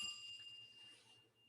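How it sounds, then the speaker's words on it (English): A single faint bell ding as a sound effect rings out briefly and decays, with a quiet hum beneath and no talk. "Larry says, Johan should get a bell ring for that"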